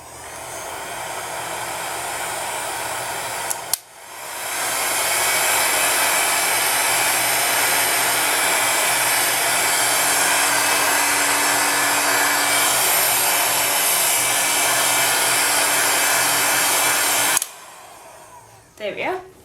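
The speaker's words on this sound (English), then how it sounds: "you can bring over the heat gun again and you can just set this again" A heat gun blowing on a thick polymer clay pendant resting on a working tile, a loud steady hot-air roar that runs for about fourteen seconds before cutting off, with a brief click and start at either end.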